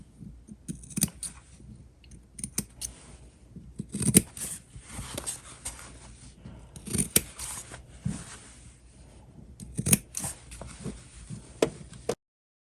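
Scissors trimming a fabric seam area on a sewn fabric basket, a close, quiet series of crisp snips in an uneven rhythm, no voices.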